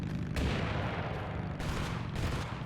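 A grenade goes off in a video game, a dense booming blast with sustained rumble and a couple of further bursts of gunfire-like crackle, loud and continuous across the short span.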